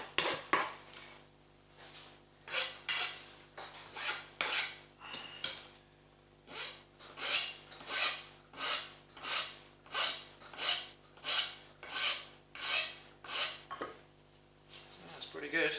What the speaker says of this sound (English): So I use the file to smooth the edges round a bit.